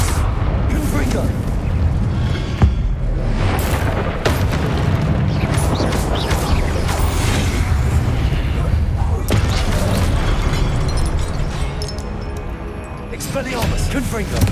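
A Confringo blasting spell goes off in the Hogwarts Legacy game amid booming explosive bursts and continuous loud game noise, with a player speaking over the action.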